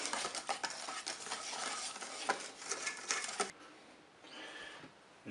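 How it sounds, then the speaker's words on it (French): Cake batter for a cherry cake being stirred until smooth, a dense run of close scraping and sloshing strokes that drops off to a quieter, softer mixing sound for the last couple of seconds, with no talking. "On va mélanger jusqu'à l'obtention d'une pâte lisse."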